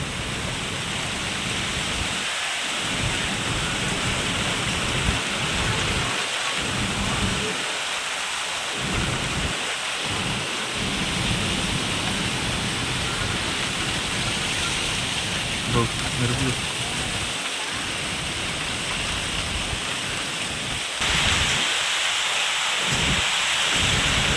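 A sudden thunderstorm with wind and heavy rain: a dense, continuous roar of downpour and gusts, broken by low rumbling thunder, with occasional voices beneath the storm.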